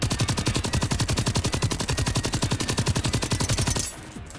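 Rapid automatic gunfire from the video game Generation Zero, a steady close burst of evenly spaced shots lasting several seconds before cutting off into quieter background.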